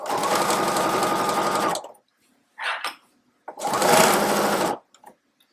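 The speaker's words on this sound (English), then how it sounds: "And you're just sewing this around to join it." A sewing machine stitching a fabric tote bag runs loud and close in two steady bursts of rapid needle clatter, separated by a brief pause with a short whir of adjustment.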